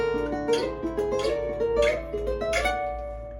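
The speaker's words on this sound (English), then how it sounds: "And with the sweep picking, it's gonna sound like this." Gypsy jazz guitar plays a sweep-picked whole tone scale run in four quick ascending bursts of rippling picked notes, clear and close, with no talk.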